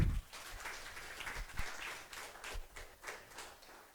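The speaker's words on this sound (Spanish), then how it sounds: "Fuerte el aplauso al Señor." A church congregation claps during a Catholic preaching service, a faint, patchy round of hand claps in a reverberant hall, fading unevenly with scattered bursts.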